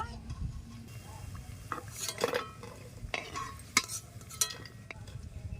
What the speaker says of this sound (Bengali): এইভাবে সব ভেজে নেব।